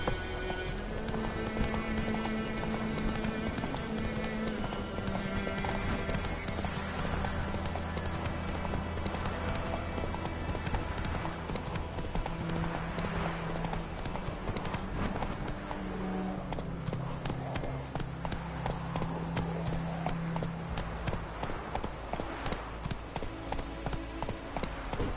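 Roach, the horse in the video game Witcher 3, gallops in a steady clip-clop of hooves under a continuous musical score, with no talk over the hoofbeats.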